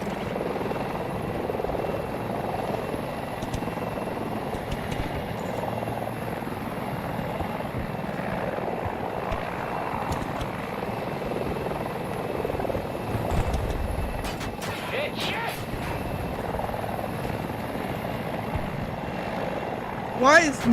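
A helicopter flies in the video game Battlefield 2042, its rotor and engine making a continuous, steady drone throughout, with brief game effects rising near the end.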